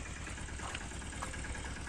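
A steady, unbroken engine rumble from a tractor working a field for irrigation, low and moderately loud with slight knocking texture throughout, no voices.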